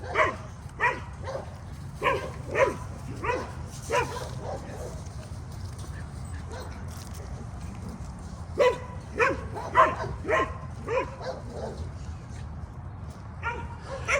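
A dog barks in rapid, repeated bursts, then pauses and barks again in another volley, fairly close over a low steady hum.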